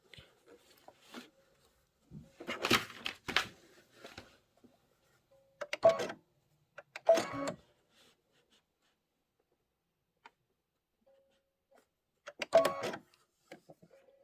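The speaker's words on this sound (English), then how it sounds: "I'm going to sew forward" A sewing machine stitches a Kimberbell quilting project in short bursts, several quick runs of rapid mechanical whirring separated by quiet pauses, close and fairly soft.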